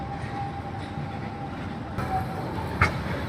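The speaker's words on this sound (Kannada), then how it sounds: "ಇದೊಂದು ರೈಲ್ವೆ ಸ್ಟೇಷನ್." Zurich main railway station concourse, a steady rumble of trains and station ambience with a faint tonal hum and a single sharp clank near the end.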